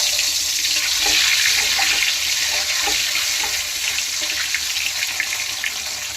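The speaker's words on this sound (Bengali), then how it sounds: "কড়াইয়ে তেল ছেড়ে দিয়েছি, তেলটা গরম হয়ে গেছে, এই ডিম ছেড়ে দিলাম।" A duck egg drops into hot oil in a wok and fries with a loud, steady hiss and crackle, close and continuous with small pops throughout, and no voices.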